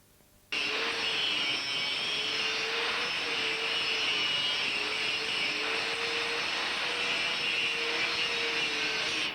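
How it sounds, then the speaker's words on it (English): Metal sculpture being ground at a workshop: a loud, steady high-pitched grinding whine that starts abruptly and holds continuously, with a faintly wavering tone underneath. "The grinding is a particularly noisy process"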